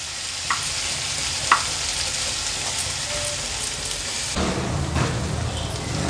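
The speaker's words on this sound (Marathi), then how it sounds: "आता एक 4 ते 5 मिनिटासाठी लो टू मीडियम फ्लेमवर आपल्याला हे शिजवून घ्यायचे आहे" Spicy prawn thecha cooking in a pan over a low-to-medium gas flame, giving a steady close sizzle and crackle throughout, with a few sharper pops and a louder burst of frying near the end.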